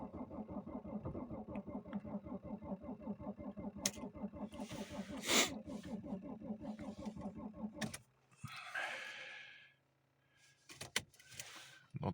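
A car engine cranks on a cold start at about -18°C, with a rapid rhythmic churning that lasts around eight seconds and then stops. A few short, quieter mechanical noises follow, all faint and close.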